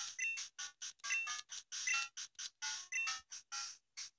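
A phone rings in Pokemon Gold with chiptune electronic trills, repeating in short rapid bursts with brief gaps, clear and alone with no talk.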